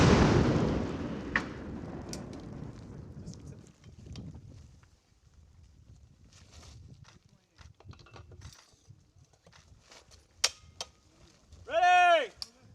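An M3E1 MAAWS anti-armor recoilless rifle fires with a loud opening blast that rolls away into a long fading rumble, followed by quieter outdoor noise and brief shouted commands.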